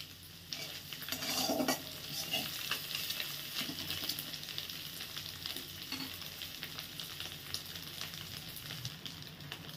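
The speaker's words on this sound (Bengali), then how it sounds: "ডিমটা ভাজা হয়ে গেছে, এবার আমি এটা তুলে নেব।" An egg fries in oil in a pan on a gas flame while noodles are prepared, giving a steady close sizzle with occasional utensil clinks on top.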